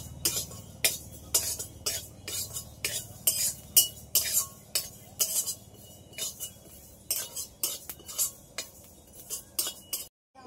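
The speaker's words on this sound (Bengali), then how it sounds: "এই মৌরিগুলো ভেজে নেব। এগুলো একটু সব হালকা করে আগে ভেজে নেব।" Fennel seeds being fried in a pan, a spoon scraping and clinking against the metal in quick uneven strokes, close and crisp, with short gaps between bursts and a low hum underneath.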